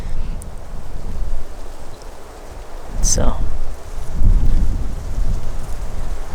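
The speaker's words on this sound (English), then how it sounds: "It's super windy today, like blowing like 10-15 miles per hour." Strong outdoor wind, blowing about 10-15 mph during a fall bear hunt, roars and buffets steadily in gusts throughout, with a brief spoken word partway through.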